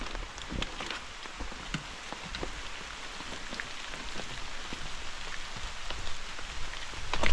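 Steady rain falls on a treehouse in a forest, a dense, continuous patter of drops striking surfaces close by, with sharper individual drips scattered throughout and no voices.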